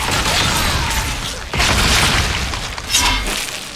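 Video game explosions as corpses are detonated five at a time in the 1997 Final Fantasy 7, loud booming blasts in quick succession with a sharp burst near the end.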